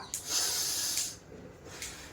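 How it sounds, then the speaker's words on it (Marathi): A forceful breath pushed out during a belly-focused breathing exercise, a loud airy hiss lasting about a second, followed by a quieter, shorter breath near the end, close and alone with no talk. "प्रेशरने श्वास घ्यायचा प्रेशरने श्वास सोडायचा"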